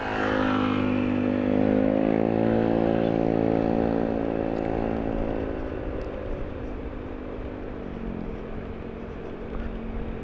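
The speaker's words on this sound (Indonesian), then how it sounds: "nampak motor matic itu ngambil ancang-ancang ya, gas ya, dia ngegas ya dari bawah" Automatic scooter revving its engine as it climbs uphill on a village road, a steady droning whine that holds loud and then slowly fades with distance.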